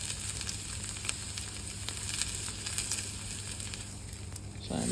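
A steak sears in a hot pan with a soft, steady crackling sizzle, faint and even, ending in a brief louder shift near the end.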